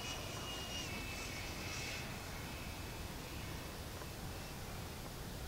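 A 120mm electric ducted fan RC jet plane at half throttle: a steady, loud jet engine roar with a high whine running throughout, sustained at an even level with no pauses.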